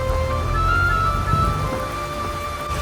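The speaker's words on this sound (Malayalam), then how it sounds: "ഭയങ്കര മഴ, സൂപ്പർ മഴ." Heavy rain pours steadily in a dense, loud hiss with a deep rumbling undertone, continuous throughout and no voices.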